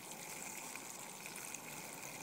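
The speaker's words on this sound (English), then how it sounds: "I'm going to attempt to take a video of my water going out." Water drains out of a Lectrochi Energy ionic detox foot spa basin, a steady soft gushing and trickling flow that continues evenly at low level with no talk.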